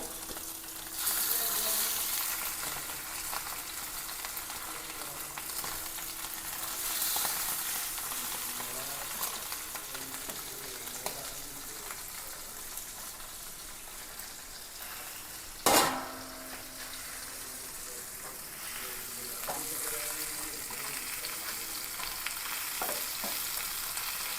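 Steady oil sizzling and crackling of three fish frying, continuous throughout, with a sharp clatter of a utensil about two-thirds of the way in.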